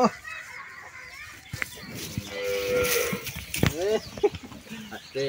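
A restless dairy cow gives a drawn-out moo near the middle, fairly close and loud, with scattered shuffling and other farm noises around it.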